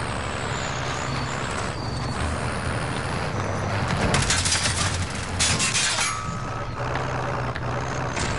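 A vehicle rumbles along in Call of Duty Warzone, a steady loud engine drone with low rolling tones, joined by bursts of distant gunfire crackle midway.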